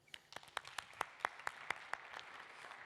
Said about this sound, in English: give her a warm round of applause while she comes on stage